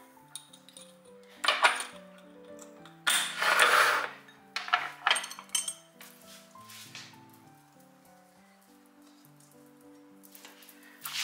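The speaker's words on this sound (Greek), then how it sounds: "Το ανακατεύω λίγο." A spoon stirring ingredients, including white and black sesame, in a small bowl, with several close bursts of scraping and clinking between quieter pauses.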